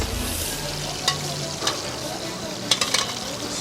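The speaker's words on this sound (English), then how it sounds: "Sizzling." Steady sizzling and crackling of steak frying in a hot pan, with a few louder pops and spatters cutting through the constant hiss.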